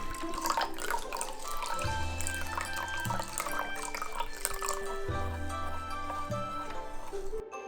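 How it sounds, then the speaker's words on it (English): One cup of warm water is poured into beaten eggs in a kitchen, making a steady, continuous splashing trickle that runs close and fairly loud throughout, with no talk. "So now pour this 1 cup of warm water inside."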